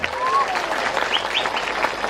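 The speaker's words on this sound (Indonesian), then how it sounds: "Tepuk tangan untuk Pak Prabowo" Crowd applause at a large religious gathering honoring Prabowo, a steady, dense roar of clapping with whistles and cheers rising above it, loud and sustained.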